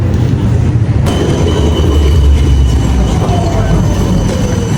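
Tram running in Amsterdam, a loud continuous low rumble of wheels on rail with faint squeals, heard from close by with no talk.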